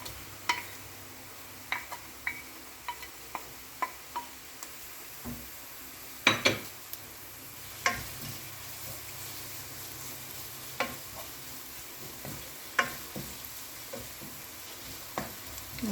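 Ginger, garlic, curry leaves and green chili sautéing in a pan, a soft steady sizzle punctuated by regular light spoon taps and scrapes, close but fairly quiet, no voices.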